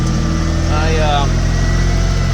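A tractor engine, used at home for plowing snow in cold weather, idles steadily close by with a low, even rumbling drone that continues unchanged for the whole stretch.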